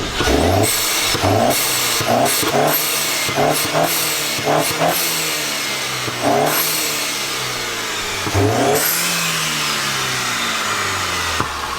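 A Mercedes-Benz C250 (W204 C-Class) with an aftermarket exhaust revs hard in repeated bursts, its loud, raspy exhaust note rising and falling, close by with no talking.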